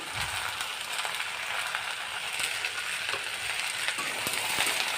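Okra (bhindi) with salt, no turmeric, sizzles in a pan, a steady close-up frying hiss with occasional clicks and scrapes from stirring.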